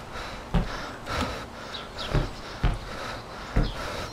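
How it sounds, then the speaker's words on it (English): Heavy breathing inside a house in the DayZ survival game: a series of short, breathy bursts roughly every half second to a second, fairly close and alone without talk. "I hear breathing all over me and shit."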